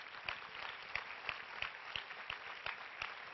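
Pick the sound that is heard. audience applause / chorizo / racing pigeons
audience applause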